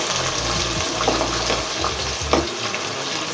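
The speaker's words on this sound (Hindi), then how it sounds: "हल्की ब्राउन कर लें प्याज को" Onions fry in a hot pan with a dense, steady sizzle, close and loud, broken by a few scraping stirs and clinks; no voices.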